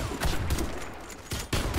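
Shooter video game gunfire rattles in dense, loud bursts of rapid shots with brief gaps between volleys.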